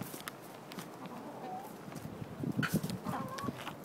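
Several hens cluck softly and irregularly nearby, with a few short higher calls among the low chatter.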